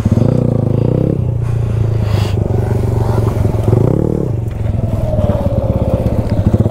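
A motorcycle revs hard and steadily during wheelie practice, its engine note rising and falling as throttle and brake are worked, loud and close throughout with a brief rattling clatter.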